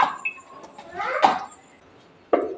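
Plates being washed with soap by hand in a home kitchen, giving a few light clinks and clatters of dishes with soft scrubbing and water noise between them, close by and fairly faint.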